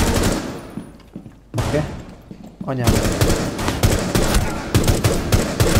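Rapid automatic gunfire and explosions from the tactical shooter game Rainbow Six Siege, dense bursts filling the clip with a short lull partway through, while a player speaks briefly over the game sound.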